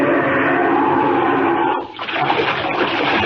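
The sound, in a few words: splash of diving into icy water, radio drama effect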